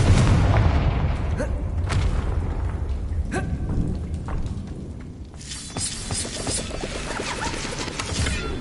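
Confringo fire spell blast in the Hogwarts Legacy video game, a loud boom followed by rumbling, crackling debris and several further impacts, with game ambience and brief bursts continuing after.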